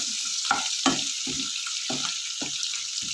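Fish masala with tamarind frying in a pan, giving a bright continuous sizzle broken by six or seven rhythmic spoon stirs and scrapes.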